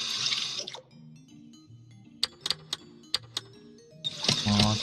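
Tap water pours in the Bakery Simulator game in two loud rushing bursts, one at the start and one at the end, with soft music tones and a few sharp clicks between them.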